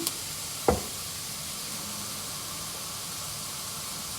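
Sausage meat fries in olive oil in a pan, giving a steady close hiss and sizzle, broken once by a single sharp knock of a utensil against the pan.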